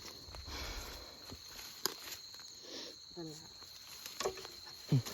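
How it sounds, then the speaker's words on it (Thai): Steady high insect chirping fills the background, like many crickets at night, with scattered rustles and footsteps nearby. "พอดีเสียงจิ้งหรีดร้องเยอะมาก"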